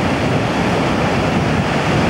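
Breaking waves and churning white water roar around a windsurfer, a loud, dense, continuous wash mixed with wind buffeting, with no voices.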